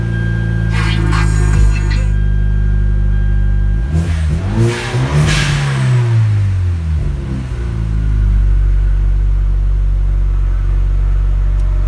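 Hyundai Genesis engine cranking and catching, then revving loudly before settling into a steady, rumbling idle, heard up close with no talking.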